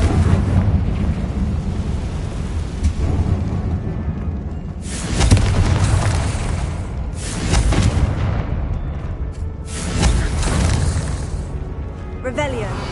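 Confringo blasting spells from a Harry Potter video game burst in a series of loud, deep booms, about three or four blasts each followed by a rumbling decay, with broad noisy bursts over a low background.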